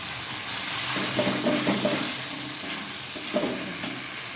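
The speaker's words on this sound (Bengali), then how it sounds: "এটা এবার কিছুক্ষণ ভাজার জন্য ছেড়ে দেবো।" Kashmiri aloo dum frying in a pan with tomato sauce, a soft steady sizzle running under occasional stirring clinks and scrapes, fairly quiet and close, with no talking.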